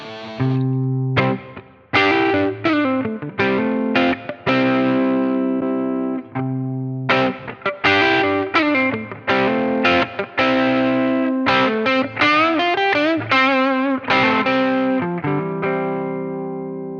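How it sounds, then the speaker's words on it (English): Electric guitar, a Les Paul on its neck pickup through an Origin Effects M-EQ Driver overdrive pedal, plays a melodic phrase of picked notes and chords with a crunchy tone, loud and up close, with no talking. "adding a little bite to a warm Les Paul neck pickup tone"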